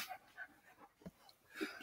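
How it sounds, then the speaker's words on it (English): Quiet dogs indoors give a few soft panting huffs and small whimpering yips in short scattered bursts, heard close but faint. "wow, these dogs are fun"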